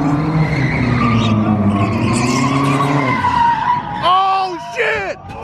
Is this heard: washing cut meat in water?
no